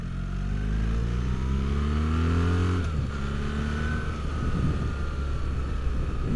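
A BMW 1300GS Trophy Edition motorcycle engine revs up steadily, shifts into second gear with a brief dip, then climbs again, loud and close, with no voices.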